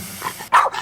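Dog barking in a television commercial, one sharp close bark bursting out after a brief hush, preceded by faint background sound.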